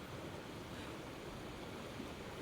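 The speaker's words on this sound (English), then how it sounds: "look how fast that river is moving" Fast-moving river water at a historic trout hatchery, a steady low roaring rush that fills the clip evenly, faint and unbroken with no voices.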